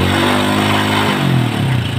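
A motorcycle with an AC ignition, after an ignition fault repair, is kick-started and revved, its engine running with a steady close hum that rises in pitch as the throttle opens, with no talk.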